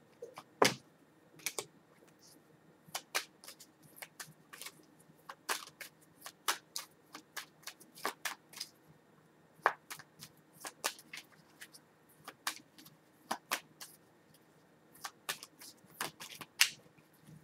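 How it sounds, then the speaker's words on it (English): Tarot cards are shuffled in irregular bursts of sharp riffling snaps, close and fairly quiet, with uneven pauses as the deck keeps sticking. "Ah, the cards keep getting stuck."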